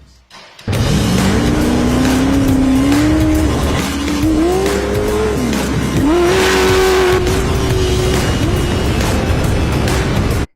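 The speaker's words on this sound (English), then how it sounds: "I'm about to test drive this Class 1 car here." A Class 1 off-road race car, prepared for the Mint 400, roars loudly and continuously up close as it is test driven, its engine note rising and falling through gear changes with tire noise.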